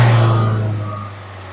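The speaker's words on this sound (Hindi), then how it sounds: "तो कुछ ऐसा साउंड करता है इसका पेट्रोल इंजन।" Kia Seltos 1.5 litre four-cylinder petrol engine idling with a steady low hum, close and fairly loud, fading slightly toward the end.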